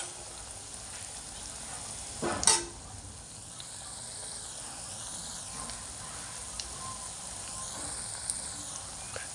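Spice tempering for a spinach dish sizzles quietly in a pan as a soft, steady frying hiss, with one brief clatter early on and no talk.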